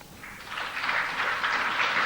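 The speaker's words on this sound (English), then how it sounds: "Sympathetic applause for a man whom MSPs knew was about to acknowledge a painful political reality." Members of the Scottish Parliament give a sustained round of sympathetic applause in the chamber, a dense, even wash of clapping that swells slightly and holds steady, heard from across the hall.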